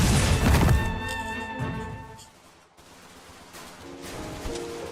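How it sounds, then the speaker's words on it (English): Gunfire sound effect in a game: a loud cluster of sharp blasts and thuds up front, a ringing metallic tone, then a quieter rumbling tail with scattered impacts. "crack of gunfire"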